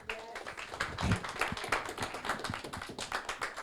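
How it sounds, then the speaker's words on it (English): Audience applause after a request to clap for a performer at an awards event, with loose, uneven claps at moderate volume and a slightly ragged rhythm, brief spoken voices mixed in. "Can you have a round of applause for Yash?"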